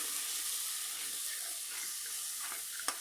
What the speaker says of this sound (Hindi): थोड़ी सी अजवाइन और कलवंजी, सूखा धनिया, बड़ी इलायची और एक बड़ा सा टुकड़ा दालचीनी का। इसको अब हम अच्छे से भून लेते हैं।